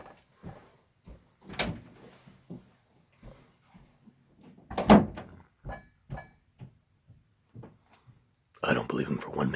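Scattered wooden thunks and knocks of a door being handled as a person leaves a room, spread between stretches of conversation and ending with louder voices.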